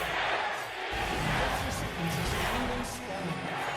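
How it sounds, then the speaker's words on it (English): A large esports arena crowd at the League of Legends Worlds 2022 quarterfinal between EDG and DRX, with a steady, loud wash of cheering and shouting that keeps going throughout, heard close and continuous. "Crowd seems quite competitive right now."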